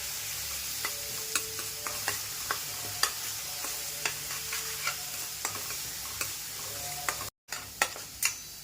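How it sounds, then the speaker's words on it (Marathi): Green chillies sizzle steadily in oil while a spoon scrapes and stirs the pan in regular taps, a continuous frying hiss underneath. "तेलामध्ये दोन ते तीन मिनटं चांगलं परतून घ्यायचं आहे मिरचीचा कच्चेपणा जाऊपर्यंत"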